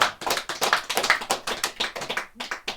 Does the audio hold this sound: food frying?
no